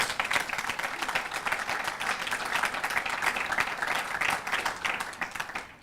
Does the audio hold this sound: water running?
no